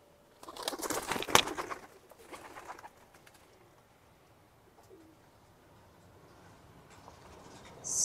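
Bird sounds from a large female Baghdadi pigeon, a burst of soft calls and wing rustle early on, then quiet with faint stirrings and a sharp sound at the very end.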